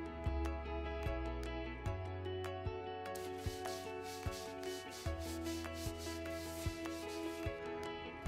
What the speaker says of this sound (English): Burrs must be removed from the ID and OD of the cut tube end.